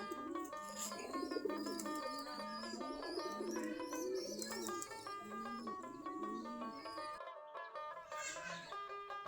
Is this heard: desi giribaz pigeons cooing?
yes